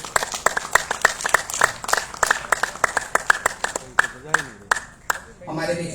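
At a festival gathering with a university professor, an audience claps in sparse, distinct, fairly even beats rather than a full roar, and a voice speaks briefly at the end.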